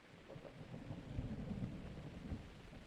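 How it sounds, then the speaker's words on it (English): Low, steady rumble of thunder with a rain-like hiss during a lightning storm in a Zelda video game, faint and continuous with no talking. "Lightning storm."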